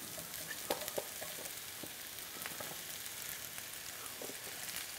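Steady sizzle of yellow squash, zucchini and onions frying in a pan over a medium-low flame, a constant hiss with scattered small pops and crackles, close and fairly quiet.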